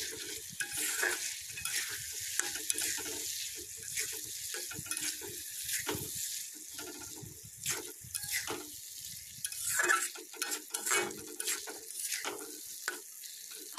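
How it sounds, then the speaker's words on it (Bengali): Taro being sautéed in a pan for a hilsa-head taro-greens dish, with intermittent scraping stir strokes and a soft sizzle, close and fairly loud, no talk. "কচুটা দেওয়ার পর এটাকে ভালো করে কষাতে থাকবো।"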